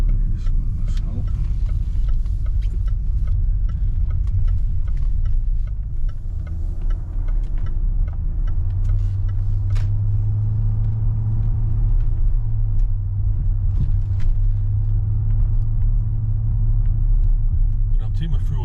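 A Range Rover L405 engine with a newly swapped throttle body idles with a deep rumble, then its hum swells and holds as the throttle is pressed, with a voice speaking over it.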